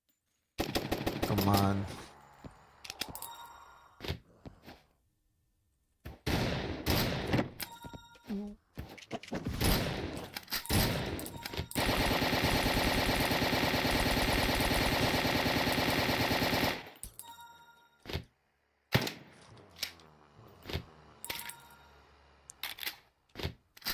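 Weapon fire in the zombie roguelite Zombiehood: choppy bursts of shots, a long sustained stretch of continuous firing in the middle, then more scattered shots, with a brief spoken remark early on.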